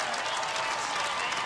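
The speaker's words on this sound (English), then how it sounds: "And you can hear all the applaud here." Angels baseball fans in the stands applaud an RBI triple, a dense, steady roar of crowd clapping that holds evenly from start to finish without a break.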